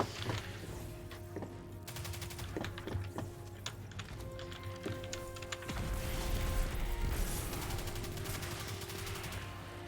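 Rapid bursts of submachine gun fire in Destiny 2, crackling in quick repeated volleys with mechanical clicks, steady and fairly close throughout with a heavier stretch near the end, no talking.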